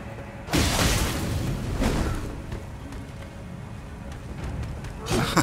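Several booming explosions in Elden Ring at Elphael, Brace of the Haligtree, a loud one early, another mid-way and one at the end, with crackly noise between.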